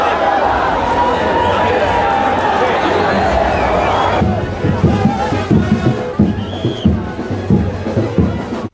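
Shiv Sena and BJP party workers crowd a municipal headquarters, shouting slogans at each other in a loud, dense roar of voices that thins into rhythmic bursts of chanting and shouts partway through.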